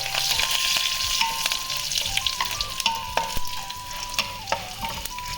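Cumin seeds, urad dal, dried red chillies and curry leaves crackle and sizzle in hot oil as a tempering for mutton boti fry, a loud close bubbling hiss with small pops and some stirring.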